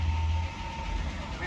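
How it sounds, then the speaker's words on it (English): A 1993 Ford XG Falcon police panel van engine with low fuel pressure cranks and rumbles into a steady low idle, close and continuous, over a faint background hum. "Yeah, let's start it again."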